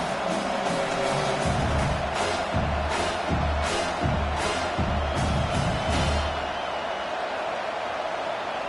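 A football stadium crowd at a Michigan game roars steadily throughout, a dense, loud wash of cheering with rising swells and no clear speech on top.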